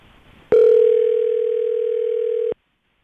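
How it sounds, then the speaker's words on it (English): A single steady telephone ring tone sounds for about two seconds, loud and close, then cuts off into silence. "It's ringing."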